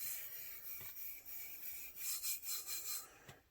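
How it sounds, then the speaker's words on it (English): Glitter being buffed by hand into a tumbler coating, a soft continuous rubbing rasp with a run of quicker strokes near the end, close and fairly quiet. "you're just kind of buffing your glitter into your tumbler"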